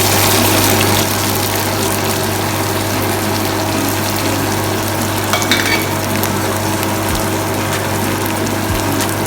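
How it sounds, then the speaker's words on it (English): Tomato and carrot frying with onion in a pan for Arabic bukhari rice, giving a steady, loud, continuous sizzle with no talk over it. "and carrot, and fry them little time until it's becoming soft."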